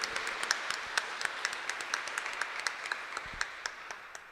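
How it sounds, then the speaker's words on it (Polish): A small crowd applauds at an inaugural organ concert, steady overlapping claps with a few sharper individual claps standing out, moderately distant and continuous. "poprosimy o gromkie brawa dla dyrektora"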